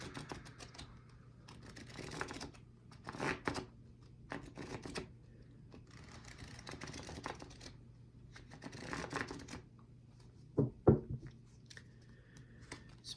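Tarot cards being shuffled by hand, a series of soft papery riffles and flicks in irregular bursts, close and quiet, with a sharper snap near the end.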